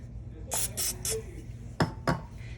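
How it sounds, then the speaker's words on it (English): Cooking oil spray hisses in a few short bursts onto a hand and fingers while shaping focaccia dough, with three quick close sprays followed by two more after a pause. "let me spray some on my hand, on my fingers"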